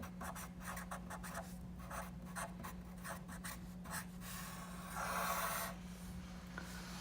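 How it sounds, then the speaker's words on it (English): Writing on a classroom board, a series of quick close scratchy strokes in short bursts followed by a longer rubbing stroke, quiet over a low steady hum, with no talking. "So I'm just going to write that really quickly here."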